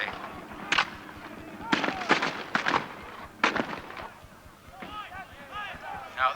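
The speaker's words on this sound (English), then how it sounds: "About to fire a volley." Muskets fire in ragged volleys at a Napoleonic battle re-enactment at Tilbury Fort, with several sharp bangs in quick bursts and short gaps between them, heard close by over outdoor ambience.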